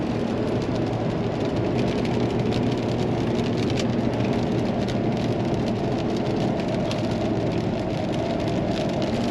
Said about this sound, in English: Definitely getting rained on now, but it's not terrible.